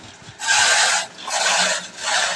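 Coarse, loud rasping of a grater scraping in three long strokes, each lasting about half a second, close up with no talking, while preparing khao mao (pounded young rice).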